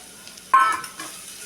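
Small onions and sliced onion soften in a hot pan for Ramadan nombu kanji; a brief stir brings a short burst of sizzling and scraping against a quiet background before settling back down.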